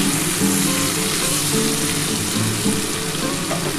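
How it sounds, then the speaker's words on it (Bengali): Potatoes frying under a lid in a pan for Bengali aloo posto, a steady close sizzle and hiss that runs unbroken, with faint tonal sounds in the background. "দেখো কি সুন্দর ভাজা হয়ে যাচ্ছে।"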